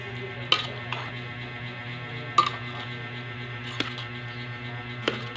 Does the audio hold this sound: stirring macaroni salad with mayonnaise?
yes